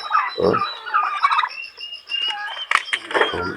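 A turkey gobbles close by in rapid warbling bursts, with other bird calls scattered around it.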